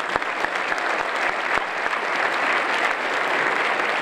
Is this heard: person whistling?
no